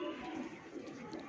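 Jaunsra pigeon of a tight-jointed Dera breed cooing softly and steadily, a faint, low, continuous murmur with no clear breaks.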